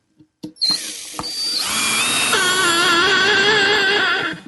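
After a few light knocks, a cordless drill drives a long 3-inch screw into a wooden table base, the motor whining steadily and loudly for a few seconds with the pitch wavering under load before stopping.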